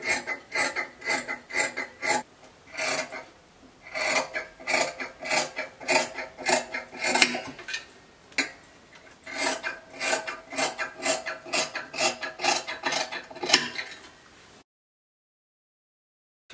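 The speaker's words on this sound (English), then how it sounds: "I'll go ahead and cut it." Dress fabric is cut in a steady run of rhythmic rasping strokes, close and fairly loud, continuing for several seconds before stopping abruptly into silence.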